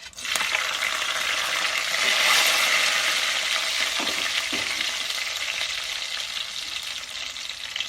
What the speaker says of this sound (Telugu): ఉల్లిగడ్డ కొద్దిగా గోలాలి